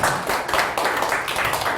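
Audience clapping at a motivational talk, a brief burst of many hands close by, dense and even from start to finish.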